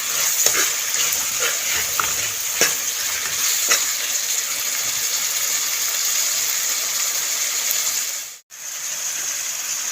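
Mutton keema roasting in a pan, a steady close frying hiss with occasional crackles and stirring scrapes in the first seconds, then a sudden brief drop near the end before the sizzle resumes.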